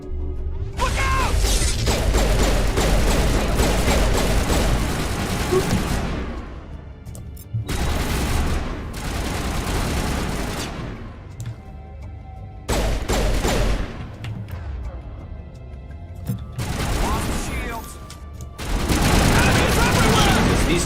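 Turret gunfire in the Mass Effect Legendary video game, loud bursts of rapid shooting and mechanical clatter in several long volleys separated by short pauses, with a player talking over it.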